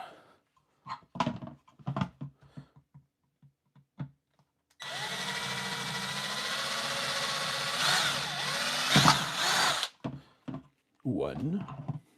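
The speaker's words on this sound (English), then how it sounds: "Put our drill bit in here." A power drill bores a hole in an LED megatree controller box in one loud, sustained run of about five seconds. It whirs with a grinding edge, and talk and handling noises come before and after it.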